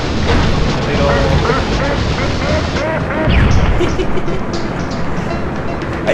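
An explosion in a Spider-Man video game comes as a loud, heavy rumbling roar with crashing debris, swelling briefly midway before settling into a sustained low blast.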